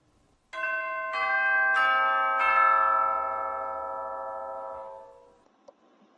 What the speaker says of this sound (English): Those are called chimes.